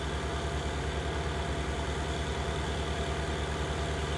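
A tractor engine idles steadily in Farming Simulator 19, a low, even diesel rumble with a constant throb held close and unchanging throughout, with no voices.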